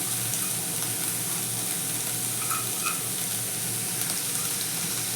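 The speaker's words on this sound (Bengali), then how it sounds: "ধনে পাতাটা ভালো করে মিশিয়ে নিই" Fried banana stem curry with chopped coriander leaves sizzles steadily in a pan on a gas stove while being stirred, a close, continuous frying hiss with faint scraping.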